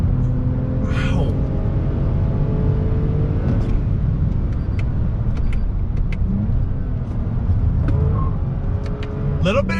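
A 2020 Toyota Avalon TRD full-size sedan on a winding road, its engine rumbling close and loud from the cabin as the throttle lifts and comes back on, with a few brief clicks and faint cabin noise.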